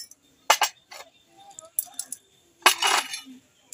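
Sugar goes into a pot for homemade alta, with a few light clinks and rattles of a utensil against the vessel in short separated bursts, close by.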